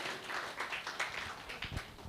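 An audience at a union talk gives a salva de palmas, steady dense applause heard faintly, with many hands clapping continuously.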